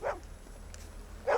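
A dog in a film scene gives two short barks, one at the start and one at the end, with quiet low rumble in between.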